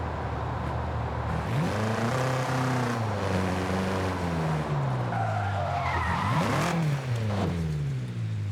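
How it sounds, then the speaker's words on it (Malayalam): A BMW car drives hard with its engine revving up and down while the tires skid and squeal. The sound is loud and close throughout, with no talking. "നമുക്ക് BM ഓടിക്കാനുള്ള അവസരം കിട്ടി"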